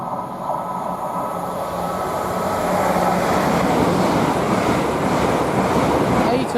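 A train at Watford Junction on the West Coast Main Line makes a loud, close, steady roar that swells over a few seconds, with broad rushing rumble and no clear voices.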